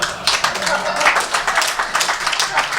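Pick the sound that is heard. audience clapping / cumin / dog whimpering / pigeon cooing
audience clapping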